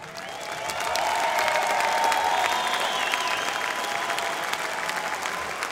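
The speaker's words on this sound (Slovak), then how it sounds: "od celé haly zasloužíš blahopřání a potlesk" A full arena crowd at a combat sports fight night in Czechia breaks into sustained applause. The dense, even clapping swells and then holds steady, with a few scattered cheers mixed in.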